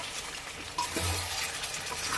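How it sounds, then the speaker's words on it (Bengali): Mutton is stirred into a sizzling cooking mixture in a pan, a brief low crackle with a scrape of the spoon partway through. "এবারে এটাকে আমি এর সঙ্গে ভালো করে মিশিয়ে নেব।"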